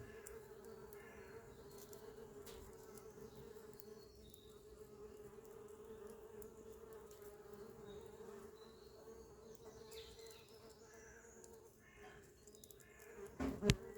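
Many wasps buzzing steadily up close around their nest in a constant droning hum, with a brief rustle near the end.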